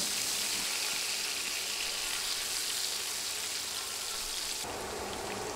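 Sliced onions frying in oil over a medium flame, a dense, even sizzle heard close and steady with no talking.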